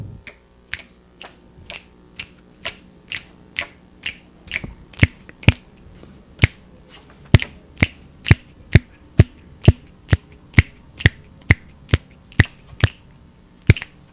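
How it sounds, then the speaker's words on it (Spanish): Finger snapping in a music class, students snapping together in a steady quarter-note beat, about thirty crisp, evenly spaced snaps, alone and growing slightly louder partway through. "Ejecutemos la negra ahora con chasquidos."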